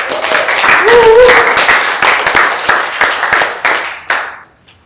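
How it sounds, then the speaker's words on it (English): A crowd claps in a burst of applause that fades out over a few seconds, with a voice speaking over the start. "can you give yourself a round of applause?"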